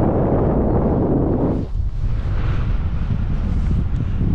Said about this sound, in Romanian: Mamă, ce bate vântul aici, băi!